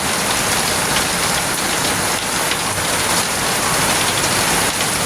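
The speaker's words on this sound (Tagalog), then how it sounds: "Grabe, lakas ng ulan." Heavy rain falls on a flooded street, a loud, unbroken hiss of drops splashing on water and pavement, close and constant with no one speaking.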